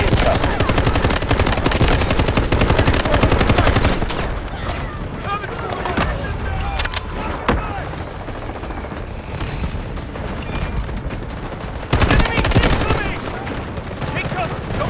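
AUG rifle fire in the shooter game Delta Force crackles in loud, rapid automatic bursts, with a heavy volley at the start and again near the end, amid distant battle booms and in-game voices calling out.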